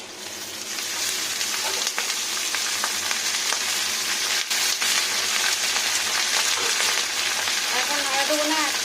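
Potato and okra (bhindi) fry in a hot pan with a steady, dense sizzle and crackle that runs throughout, loud and close, with a faint voice now and then.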